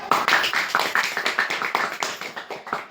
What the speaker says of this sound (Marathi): एकदा त्यांच्यासाठी टाळ्या वाजवूया.